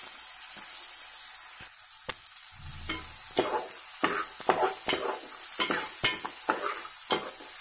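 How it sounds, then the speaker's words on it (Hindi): Onions fry in hot oil for a dhaba-style egg masala, a continuous bright sizzle broken by repeated scraping strokes of a spatula stirring the pan. "प्याज को डालकर ब्राउन कलर आने तक भून लीजिए"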